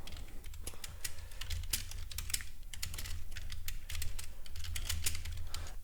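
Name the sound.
typing on a computer keyboard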